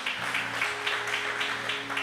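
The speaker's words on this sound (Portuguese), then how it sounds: "Quem pode aplaudir o Senhor?" A church congregation claps in rhythmic bursts, about one every half second, over sustained music at low volume.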